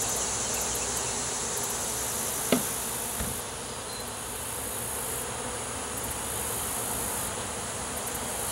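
Dense, continuous buzzing of many honey bees fills the space during a bee removal, steady and close, with a couple of faint knocks partway through.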